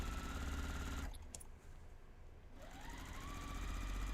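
A sewing machine stitches a French seam in a steady, fast mechanical whir, briefly pausing partway through before running on again. Quiet and close by, with no talking.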